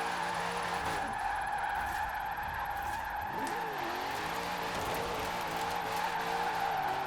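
A car engine in Forza Horizon 4 revs steadily while tires squeal and skid through a drift, the pitch swooping as the revs shift.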